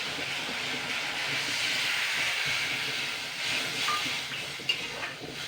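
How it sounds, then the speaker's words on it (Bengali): Water poured into a pan of hot fried spice paste for a tilapia fish curry, giving a steady loud hiss and sizzle of steam that holds evenly throughout with no talking. "তো এবার আমি এতে জল দিয়ে দেবো।"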